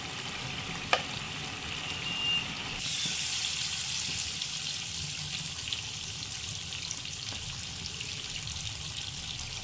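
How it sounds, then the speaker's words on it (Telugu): Mutton curry simmering in a pot, a soft continuous bubbling hiss with a faint clink near the start, steady and low in level with no talking. "ఇది ఉడుకుతూ ఉంటుందండి"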